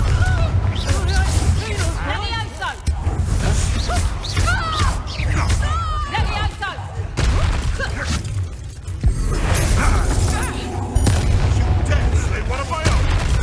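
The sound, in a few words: Confringo blasting spell explosion in Hogwarts Legacy, a video game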